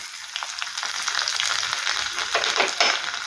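Crushed garlic fries in ghee with a pinch of asafoetida and whole cumin, giving a steady close sizzle with bubbling crackle that swells slightly toward the end.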